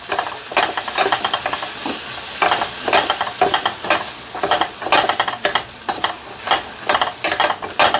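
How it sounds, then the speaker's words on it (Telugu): A spoon scrapes and stirs gongura curry with tomato in a pan, Andhra style, in steady, close, repeated strokes over a soft sizzle, with no talking. "ఇది బాగా కలుపుకోవాలి."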